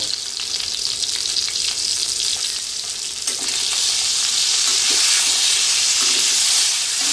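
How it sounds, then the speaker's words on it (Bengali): Eggplant pieces frying in hot oil with salt and turmeric over high heat, uncovered, a loud continuous sizzle that swells in the second half, with occasional stirring scrapes. "বেগুনগুলোকে একটু লাল লাল করে ভেজে নিতে হবে, ঢাকা দিতে হবে না, জাস্ট একটু হাই আঁচের মধ্যেই লাল লাল করে ভেজে নেব"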